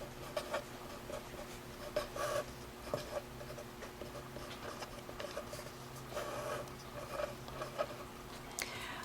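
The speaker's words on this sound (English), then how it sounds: "I will go ahead and write my quadratic formula down" Pen writing out the quadratic formula in a math lesson, a faint, close scratching that comes in short strokes and pauses, with quiet room noise behind.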